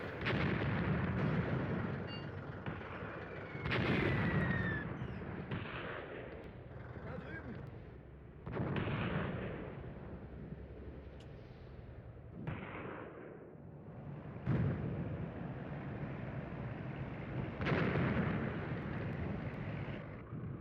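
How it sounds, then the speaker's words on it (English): Mortar shells land repeatedly in the Tunisia 1943 tank battle game, a series of heavy booming impacts every few seconds over a continuous rumbling battlefield din, with a voice talking throughout. "Don't know why the mortars are coming down there."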